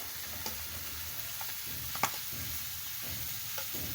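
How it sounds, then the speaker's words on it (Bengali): Fried onions going into boiled Malabar spinach and lentil dal give a soft continuous sizzle, with a few faint taps and scrapes of stirring, and no one speaking. "সিদ্ধ করে নিয়ে পেঁয়াজ ভাজা দিয়ে দিলাম পুঁই শাকের মধ্যে"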